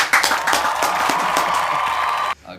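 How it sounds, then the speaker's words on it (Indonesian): An audience claps together in a dense burst of hand claps that lasts about two seconds and then stops abruptly, heard close and fairly loud. "Tepuk tangan dulu."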